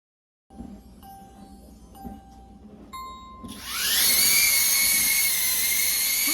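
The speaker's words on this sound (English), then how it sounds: "if you want audio indoors, you are going to hear the whirring of the quadcopter" Snapchat Pixy camera drone quadcopter spinning up indoors: a few faint beeps and tones give way to a loud, close, high-pitched whirring whine from the rotors that holds steady.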